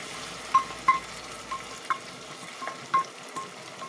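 Spice mix stirred into frying onions for a broiler chicken dish, a soft steady sizzle under a handful of light scraping clinks from a spoon against the pan.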